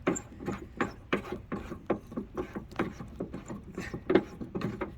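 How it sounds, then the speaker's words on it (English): Hood fasteners being unscrewed on a Nissan 370Z: a rapid series of ratcheting clicks and small plastic-metal turns in quick uneven rhythm, close and moderate in level, with no talking. "go ahead and just unscrew these, and they come unscrewed like so."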